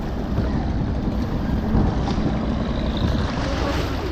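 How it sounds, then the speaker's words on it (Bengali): River waves wash in at Narisha near Dohar, a broad river that looks like a seashore, with boats nearby; a loud, constant roar of water mixed with buffeting wind noise on the microphone. "এই ঢেউ দেখার পর আপনার কি মনে হচ্ছে"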